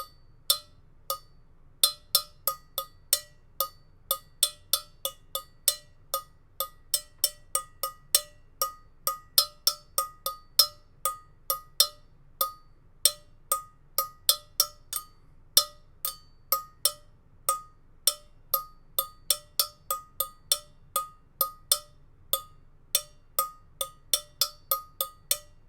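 A found-object drum tapped steadily, giving bright metallic clinks like a cowbell in a regular rhythm of single strikes over a low hum, close and clear with no talk.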